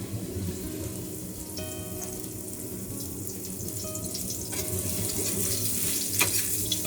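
White mushrooms hitting smoking-hot oil in a wok give a steady, close frying hiss that rises slightly as they cook, with faint scraping clicks and no voices.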